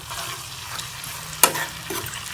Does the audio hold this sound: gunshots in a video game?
no